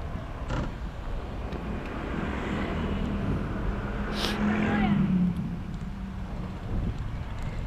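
Trucks on a mountain road through tea plantations, a steady engine rumble and road roar heard from inside a moving vehicle, with wind noise and a passing swell near the middle.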